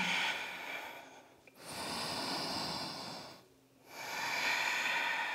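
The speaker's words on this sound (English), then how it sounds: "reconnecting to that ujjayi breath, restricting the back of the throat, breathing deeply" Slow, deep ujjayi breaths during a yoga flow, each long hissing inhale and exhale drawn through a constricted throat, close and steady with brief pauses between breaths.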